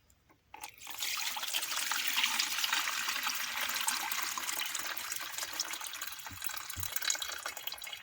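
Water pours through a strainer over tomato seeds, a steady close splashing trickle that starts abruptly and runs for several seconds.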